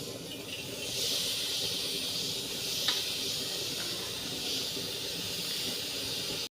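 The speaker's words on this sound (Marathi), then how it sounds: "आता मी हा मसाला भाजून घेते." A spice masala of cloves, cinnamon, mace, cumin, coriander seeds, onion, garlic and coriander leaves roasts in a pan, giving a steady soft hiss, with one faint clink partway through, then cutting off abruptly.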